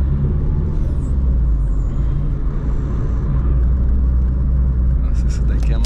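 A Corsa 1.6 turbo street car shifting gears at low revs: a steady low engine drone rumbles close by, with light noise near the end.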